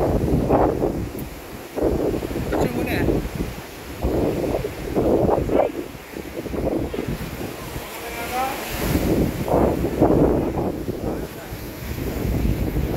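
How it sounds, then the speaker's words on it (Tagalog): Strong wind at the Abot Cave viewpoint in Pagudpud, Ilocos Norte, Philippines, buffets the microphone in gusts, with a low rumble beneath and a voice speaking briefly over it. "Nalakas talaga ng hangin."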